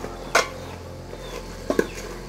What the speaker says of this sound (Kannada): ಇಲ್ಲಿ ಒಂದ್ಸರಿ ನೀಟಾಗಿ ಮಿಕ್ಸ್ ಮಾಡ್ಕೊಳ್ಳಿ